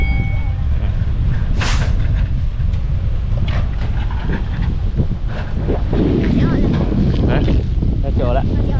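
Wind gusting off the Mekong River buffets the microphone in a steady, loud roar, with broadband rumble and a hiss that swells around the two-second mark, alongside a faint background voice.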